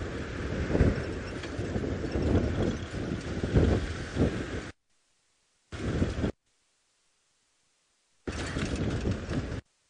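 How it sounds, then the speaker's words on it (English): Strong morning wind buffets an outdoor microphone on a sunrise safari drive, a loud rumbling roar for several seconds that cuts out abruptly, then returns in short gusty bursts separated by dead silence. "this wind is really making it difficult for us this morning"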